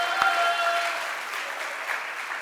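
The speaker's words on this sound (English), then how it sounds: "Let's give them a round of applause." Applause from a meeting audience honoring team members, a dense, steady wash of many hands clapping, moderately loud and sustained throughout with a brief faint tone near the start.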